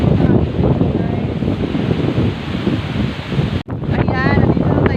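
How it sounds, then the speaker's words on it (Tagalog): Strong seashore wind buffets the microphone in loud, roaring gusts over crashing surf, with a brief break partway through before the blustery noise resumes. "Malakas yung hangin dito guys."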